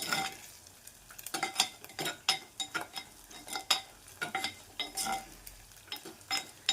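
Spices crackle and sizzle as they are lightly roasted in a pan for a paneer dish, with a spoon stirring, producing irregular clinks and scrapes over a steady frying hiss.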